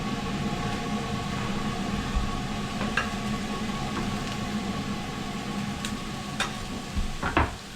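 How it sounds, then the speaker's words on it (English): Garlic sizzles in a hot pan for a mushroom mapo tofu, a steady close crackling hiss with a few sharper pops and stirring scrapes near the end. "And we'll go ahead and toss our garlic in."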